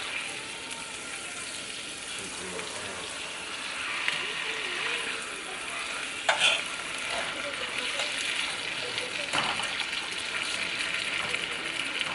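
Ribeye steaks sizzle steadily in a cast iron pan on a stovetop after being flipped, a constant hiss with a few faint clinks, while a person talks over it.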